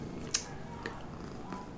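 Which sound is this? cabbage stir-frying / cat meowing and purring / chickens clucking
cat meowing and purring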